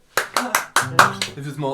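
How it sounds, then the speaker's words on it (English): A few people clap in a small shed at a live gig on stilts, sparse separate hand claps in a loose rhythm, close and fairly loud, then a voice starts talking as the clapping fades. "There's people clapping on the other side of the crowd"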